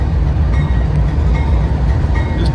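A CSX train rerouted over Norfolk Southern rolls southbound on the number 2 track in Glendale, among the first through since a derailment; a loud, close, steady rumble with a faint metallic ring throughout.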